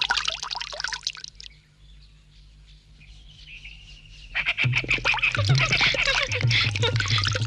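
Water pouring for hand washing, a steady splashing stream that starts partway through after a quieter stretch, with bird chirps and light background sounds around it.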